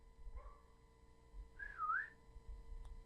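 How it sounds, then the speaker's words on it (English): A person whistles a short rising-and-falling tune, preceded by a faint brief tone, fairly close with quiet room noise behind. "Nice whistle"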